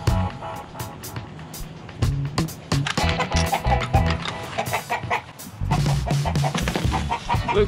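Backyard chickens cluck and scratch around near a rooster, with a busy, irregular run of short clucks, rustling and light knocks close by and fairly loud.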